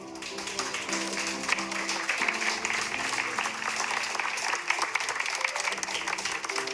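Audience applause at a plaque unveiling ceremony for an indigenous cultural health station in Tainan, Taiwan: steady, dense clapping from a crowd that holds for several seconds, with faint tones sustained underneath.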